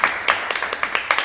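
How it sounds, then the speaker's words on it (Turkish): A few people clap briefly on a blind-date game show, giving a short burst of quick, uneven claps that sound close and fairly loud. "Lan bir dürüstlük alkış."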